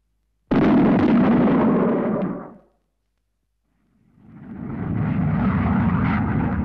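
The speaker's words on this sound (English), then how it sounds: "an aircraft flying at a steady speed above Mach 1, either transonic or" A supersonic aircraft roars loudly, cuts off into silence, then its heavy rumbling noise swells back in and holds steady.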